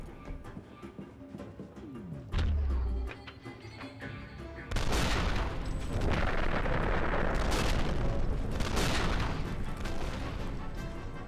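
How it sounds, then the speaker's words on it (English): A repeating cannon fires in the video game F.E.A.R. Perseus Mandate, a dense sustained barrage of loud blasts and booming impacts that starts after a brief low thump and rumbles on continuously. "I guess I'll go with the repeating cannon."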